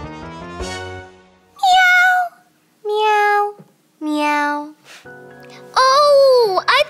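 A cat meows four or five times, each call loud, drawn out and clearly separated by short pauses, with no other sound around it.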